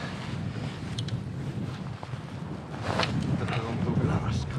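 Steady wind blows across an open lake from a boat during autumn pike fishing in Kainuu, Finland, a constant rushing buffet on the microphone that strengthens toward the end, with faint voices underneath.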